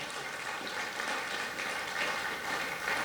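Audience applause at a Restoration Civil Rights Day event program: steady, dense clapping from a crowd, holding an even, moderately loud level for the full few seconds.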